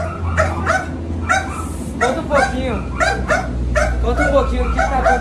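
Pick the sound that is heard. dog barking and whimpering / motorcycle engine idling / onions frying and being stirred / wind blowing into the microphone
dog barking and whimpering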